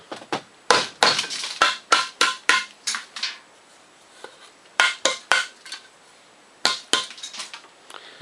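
An empty coffee can with set Hydrocal plaster inside is knocked repeatedly, bursts of sharp, ringing metallic bangs in quick rhythmic runs with short pauses between, close and loud.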